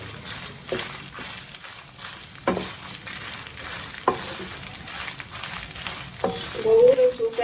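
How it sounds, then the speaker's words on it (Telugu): Whole spices fry slowly over a low flame for gongura pickle, a steady close sizzle broken by periodic scraping stirs of a spoon in the pan, with no talking. "ఇది వెంపులు సిమ్లో పెట్టి వేయించుకోండి లేదంటే కలర్ చేంజ్ అవుతాయి"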